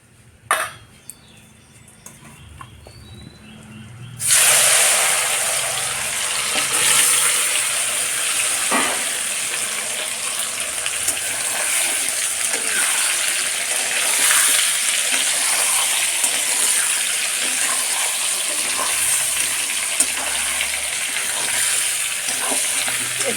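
Mango pieces frying in hot oil with five-spice seeds, a loud steady sizzle that jumps in abruptly after a few quiet seconds and stays dense throughout, with occasional stirring clatter.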